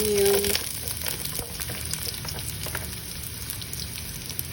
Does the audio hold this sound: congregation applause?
no